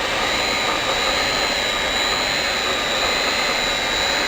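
A PVC welding machine with a hot-air heat gun blows in a constant, loud, steady whoosh with a high whine on top, unbroken and with no voices.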